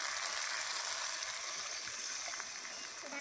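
Steady loud sizzling and bubbling as water hits hot oil in a pan of fried bitter gourd, a continuous hiss that barely eases over the few seconds.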